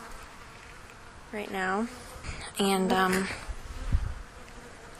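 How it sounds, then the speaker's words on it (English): Honey bees buzzing nearby in short bursts beside their hive boxes, with a person speaking briefly between them. "there are bees around me"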